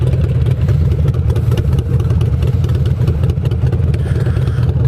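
Loud, steady rumble of motorcycle engines, including a Harley-Davidson Iron 883, idling and revving up close, continuous for the whole stretch with no talking.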